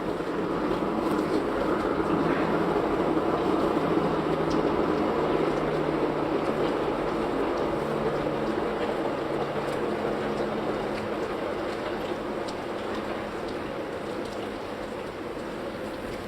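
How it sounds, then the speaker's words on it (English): Trains roll past in a long, steady rumble with a continuous low drone and faint hum, loud and sustained from start to finish with no talk. "There seems to be a lot of trains today."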